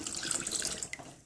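A homemade rice water and apple cider vinegar toner is poured into a bottle as a steady, close liquid trickle and splash that runs throughout, ending with a small drip.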